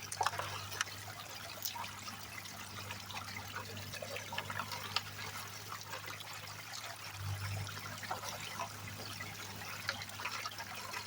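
Water runs steadily through a gold sluice outdoors, making a faint, continuous trickling wash with a low hum underneath.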